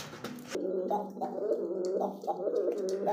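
Pigeons held in a bird seller's collection coo in low, throaty, bubbling rolls, several repeated calls close by, with a faint voice in the background at the start.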